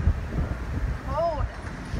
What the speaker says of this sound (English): It's windy, but it's nice.